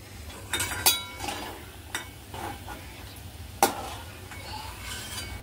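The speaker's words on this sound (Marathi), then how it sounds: "आता मी सगळे काजू काढून घेते" Fried cashews are lifted out of hot oil in a pan with a metal utensil, producing a few scattered clinks and scrapes over a faint, low bubbling of oil.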